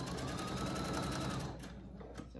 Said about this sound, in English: So I'm sewing down my armhole.